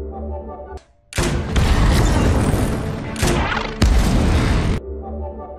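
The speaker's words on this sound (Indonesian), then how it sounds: "langsung menembak John dengan grenade launchernya" A grenade launcher fires in a Terminator Genisys film scene, giving heavy booming blasts and crashing debris in loud sustained bursts, with short quieter gaps between them and a little speech around the blasts.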